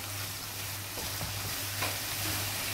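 Keema with spinach and tomatoes being stirred in a hot pan, a steady sizzle of frying with a few soft scraping strokes, close and continuous without talk.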